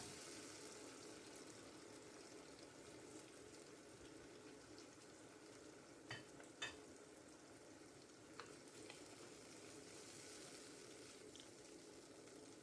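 Pasta water is poured into a pan of sizzling sun-dried tomato, chili, garlic and oil sauce, giving a soft continuous frying hiss with a few brief bubbling pops, faint and steady with no talking.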